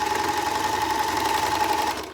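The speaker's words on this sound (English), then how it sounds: "when you get to the corner on an overlocker, you just keep going and you what's called chain off" An overlocker sewing machine runs steadily, chaining off stitches past the corner of a fabric storage bag, with a continuous close mechanical whir and hum that eases off at the very end.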